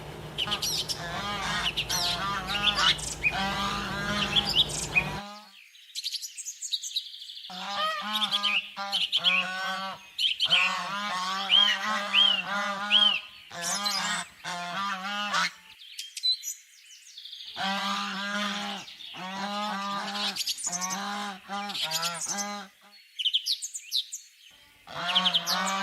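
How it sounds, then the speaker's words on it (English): Geese honk again and again in busy, overlapping bursts, loud and close, with brief pauses between the calls and no talking. "Con ngỗng. Goose."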